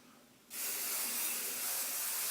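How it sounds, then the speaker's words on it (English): A sudden steady hiss of hairspray sprayed over a fishtail braid starts and continues for about two seconds, loud and close, with no talking. "And just spray the whole braid"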